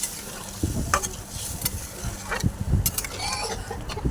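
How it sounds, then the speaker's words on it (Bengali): Water poured from a bowl into a pan of potatoes and green chillies, with sizzling, stirring and scraping bursts of moderate loudness throughout. "আর এক বাটি জল দিয়ে দিচ্ছি"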